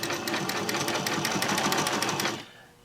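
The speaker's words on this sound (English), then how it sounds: "Now the needle sews back and forth." A sewing machine runs a serpentine stitch with a shortened stitch length, its needle swinging side to side in a fast, even clatter, close and steady, before stopping abruptly near the end.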